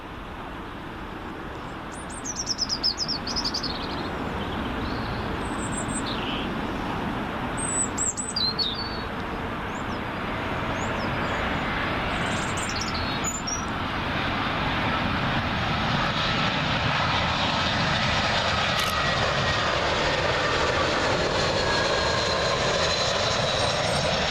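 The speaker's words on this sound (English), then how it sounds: "Up next, British Airways A319 in from Amsterdam." British Airways Airbus A319 arriving on Heathrow runway 27L from Amsterdam, a steady jet roar that builds and brightens as it nears, with birds chirping over it early on.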